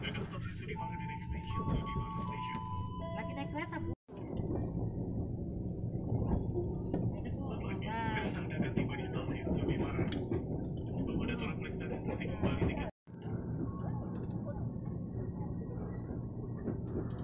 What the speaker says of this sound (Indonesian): Dan kereta tiba di stasiun Sudimara.